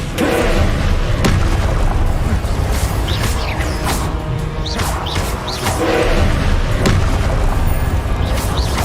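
Spell blasts from the Hogwarts Legacy video game, repeated heavy booms and crashing impacts in quick succession over a constant loud rumble, with sharp magical zaps flickering between them.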